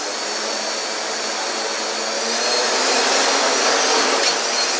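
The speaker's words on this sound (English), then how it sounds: "notice the difference, the lower motor started up first." The motors of a CarbonCore Y6 multirotor hover indoors in a garage, a loud close whining roar that holds steady and swells slightly as they run.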